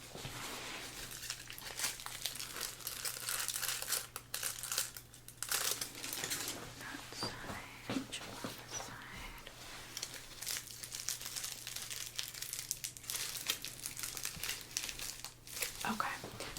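Hair dye foils being unfolded, checked and crinkled in a salon, with a soft, steady crinkling and faint tearing close by and a low hum beneath it all the way through.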